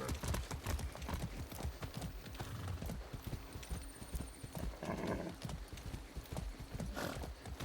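Rapid clip-clop of horse hooves in Far Cry 6, trotting in quick irregular patterns during tight circles, with a brief whinny and a short electronic tone partway through.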